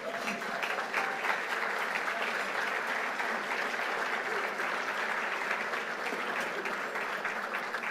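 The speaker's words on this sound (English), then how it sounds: "Round of applause for these lovely board members." A gala crowd gives board members a round of applause: sustained, even clapping from many hands indoors, moderately loud and unbroken for about eight seconds.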